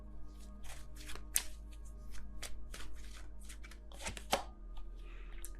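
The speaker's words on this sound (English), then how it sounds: "let me just get another card before I say that" Tarot cards are shuffled and drawn by hand in a quiet room, making a run of quick, close riffling flicks and soft slaps that come in irregular bursts.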